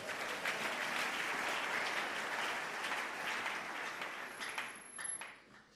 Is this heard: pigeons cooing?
no